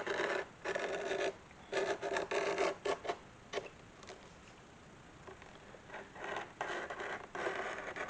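Knife cutting leather for a holster, soft close scratchy slicing strokes in short irregular bursts with quiet pauses between them.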